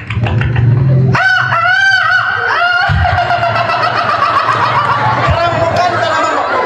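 A rooster crows loudly and close, its long wavering call stretching over several seconds, with background chatter and clucking around it.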